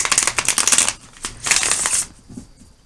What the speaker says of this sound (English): I like to shuffle them a little on camera